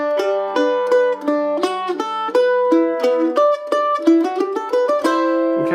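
Guitar melody picked in a clipped bluegrass manner, each note released quickly rather than held, giving a steady sequence of short, detached plucks played alone and close.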